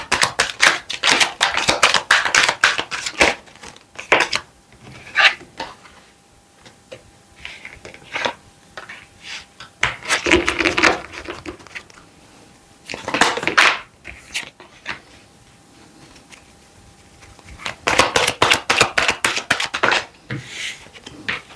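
Tarot-style cards shuffled and dealt for a seven-card sentimental reading: bursts of rapid riffling flutter alternate with quieter gaps of single soft card taps and slides, close and clear with no talking.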